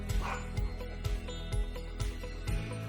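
Dogs bark repeatedly inside a store, giving sharp, evenly spaced yips and bow-wows about every half second at moderate volume.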